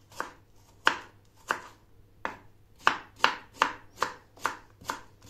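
Onions are chopped with a knife on a cutting board in a kitchen, about a dozen separate crisp, close knocks at an unhurried, slightly uneven pace, with no talk.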